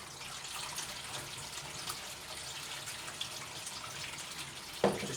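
Tap water runs steadily into an Indesit washing machine, a continuous hissing flow with a small knock near the end.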